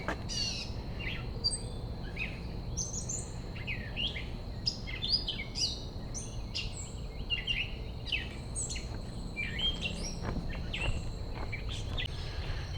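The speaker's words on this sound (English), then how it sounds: "Listen to that bird." Several birds chirp and sing in short bursts over a steady low background hum, with bright overlapping calls throughout.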